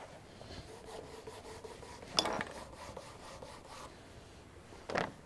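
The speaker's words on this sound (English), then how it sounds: "Now we're going to go ahead and burnish them one more time." Dyed leather edges on tapaderos are burnished by hand, giving soft, faint rubbing strokes close up, with a couple of brief, sharper scraping bursts and no talking.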